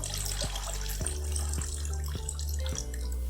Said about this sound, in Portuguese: simplesmente afundar ela no balde até que a água molhe toda a terra sem molhar as folhas